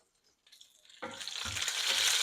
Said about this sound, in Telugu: శనగగుళ్ళు వేగిన తర్వాత పోపులు వేసుకోవాలండి